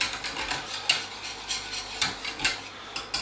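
Chocolate custard with dark muscovado sugar being whisked in a pan, a fairly quiet, continuous swishing with regular metallic taps of the whisk against the pan roughly every half second.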